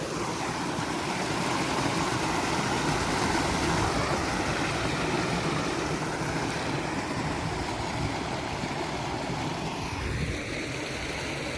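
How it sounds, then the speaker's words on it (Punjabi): Irrigation water pours into a farm field in a steady, dense rushing wash that stays loud and even throughout, with no voices. "ਲਓ ਜੀ ਗਾਇਸ ਚੱਲ ਪਿਆ ਪਾਣੀ ਇੱਧਰ"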